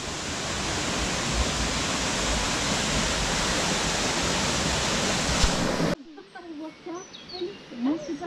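Steady, loud rushing roar of a waterfall on São Miguel in the Azores fills most of the clip, then cuts to a quieter scene with birds chirping and faint voices.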